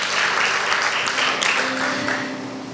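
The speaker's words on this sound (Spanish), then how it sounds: "Dele un aplauso a la palabra de Dios" A church congregation applauds after a call to honor the word of God, a dense, steady wash of many hands clapping that holds loud throughout and eases slightly at the end.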